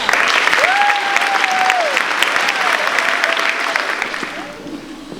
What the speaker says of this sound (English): we give 11C1 a round of applause.